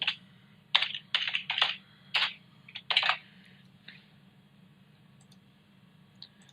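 Computer mouse clicks while marking heartbeats in Holter cardiology review software, a quick run of close, sharp clicks in clusters during the first half, then quiet with a faint low hum underneath.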